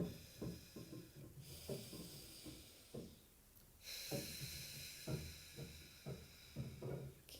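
Slow, deep breathing during a guided healing meditation: a steady rhythm of soft inhales and exhales over a faint background hiss, with no talk.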